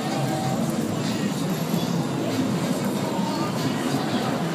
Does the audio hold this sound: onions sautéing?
no